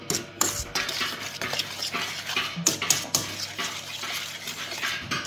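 A spoon scrapes and taps round a bowl as carrot cake batter with grated carrot is mixed, in quick irregular strokes with brief knocks, close and fairly loud, no voices.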